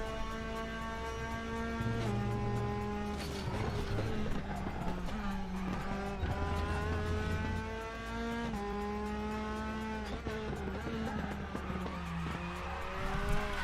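Open-wheel F3 race car in the RaceRoom racing game with a droning, gear-stepping engine, tires sliding and squealing through corners, loud and continuous with no talk.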